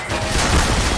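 Dense, continuous gunfire from soldiers and automated turrets in the Black Mesa game, a loud, steady barrage of overlapping shots with booming low-end rumble and no clear gaps.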